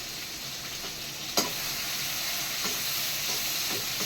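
Prawns for Madurai-style prawn thokku are sautéed in a pan with turmeric and salt, giving a continuous, dense sizzle up close, with one brief clink from a spoon.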